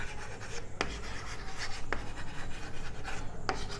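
Marker or chalk strokes scraping across a classroom board in a physics lesson, a steady scratchy rubbing with a few sharp taps at the ends of strokes, close and continuous with no talking.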